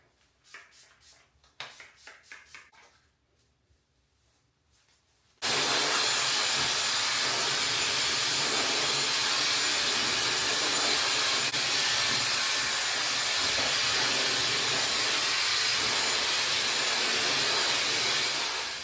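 After a few quiet clicks and handling sounds, a Dyson hair dryer switches on at high power, blowing in a loud, steady rushing hiss that continues to the end.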